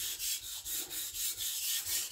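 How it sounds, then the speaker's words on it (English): Knife bevel ground on a sharpening stone with almost no pressure: regular back-and-forth scraping strokes, roughly eight, close and fairly quiet, no talking. "I'm sharpening to a burr since I'm creating a bevel now."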